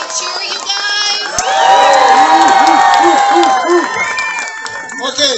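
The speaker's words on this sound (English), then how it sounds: "Can we give him a big cheer, you guys?" A crowd of adults and children at a Christmas lights event cheers and whoops loudly, a swelling roar of shouts and high squeals with some clapping that rises, holds and then tapers off.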